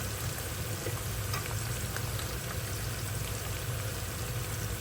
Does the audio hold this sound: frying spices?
yes